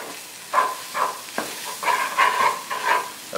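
Flour toasts with onions in melted margarine as the base for a vegan Southern gravy, giving a moderate sizzle. Repeated scraping stir strokes come in an uneven rhythm over it.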